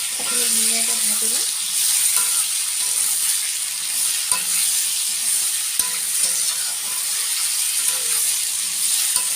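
Kohlrabi stir-fried in oil in a pan over a gas flame, a steady close sizzle with occasional spatula scrapes and clicks, no talking heard.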